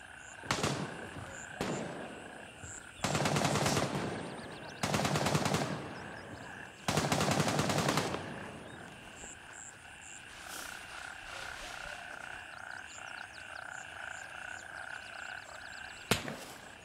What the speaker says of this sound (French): Oh, c'est qui tire?